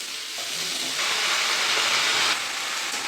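Chopped bottle gourd hits hot mustard oil with ginger in a pan, a loud steady sizzle that swells sharply for over a second before easing back, close and continuous with no voices.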